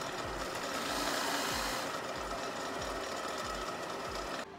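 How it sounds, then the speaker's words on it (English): An old drill press runs while drilling a shallow hole, a steady mechanical whir with a regular low thumping pulse repeating roughly every half second, close and continuous until it stops abruptly near the end. "Using an old drill press is challenging."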